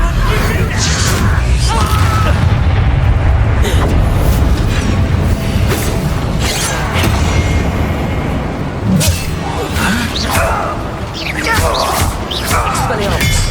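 Hogwarts Legacy spell combat: a run of loud magical blasts and crashing impacts over a dense, constant din, with several sharp bursts spread through the stretch and game voices shouting in between.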